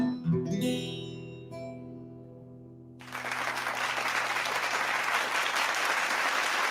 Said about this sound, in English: they're all clapping and cheering